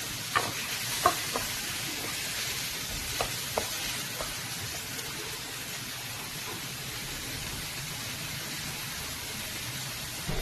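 Onions and green chillies fry in butter with a steady, soft sizzle, punctuated by a few light clicks and taps from stirring early on, with no voices.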